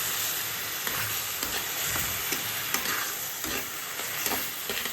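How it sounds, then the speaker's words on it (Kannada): Ginger garlic paste fries and is stirred in a hot pan, giving a continuous moderate sizzle with small crackles and spoon scrapes. Nobody speaks. "ಇದ್ರದ್ದು ಸ್ಮೆಲ್ ಹೋಗೋವರೆಗೂ ಸ್ವಲ್ಪ ಫ್ರೈ ಮಾಡ್ಕೊಳ್ಳೋಣ"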